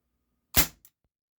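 A single sharp crack from a Sig Sauer P226 CO2 air pistol with blowback, firing a 6.64-grain H&M Barracuda Green pellet, loud and close, followed by a brief mechanical snap of the slide cycling.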